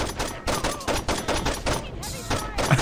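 Gunfire in the video game Saints Row 2: a rapid series of loud, punchy shots in quick bursts with brief gaps, one short pause midway, and a voice faintly mixed in.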